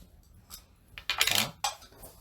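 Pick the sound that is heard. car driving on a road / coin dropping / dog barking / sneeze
coin dropping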